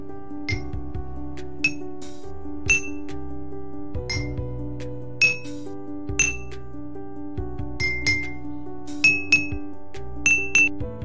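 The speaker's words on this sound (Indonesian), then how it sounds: "menyiapkan 1 buah sendok untuk menguji suara atau bunyi yang dihasilkan dari ketiga gelas" A metal spoon strikes three drinking glasses each holding a different amount of water, producing clear ringing clinks of varied pitch in irregular single taps and quick clusters, close and distinct with no talking.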